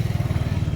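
A motorcycle engine putters close by with a rapid, even pulsing throb, loud and steady with no voices.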